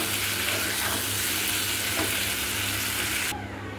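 Ground spices sizzling and being stirred in a hot pan for a Bengali tomato curry with fish, a dense steady frying hiss close up, dropping away abruptly at the end.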